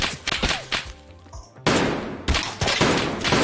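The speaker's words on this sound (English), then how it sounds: "There's a guy at the top of the escalators here that starts firing upon me." In Escape From Tarkov, rapid close gunfire rings out from a shooter at the top of the escalators: a burst of shots, a brief lull, then sustained loud volleys.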